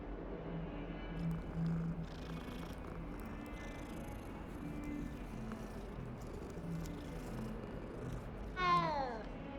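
A cat is petted in the Hogwarts Legacy video game. It purrs softly and steadily under game ambience, then gives one short, rising meow near the end.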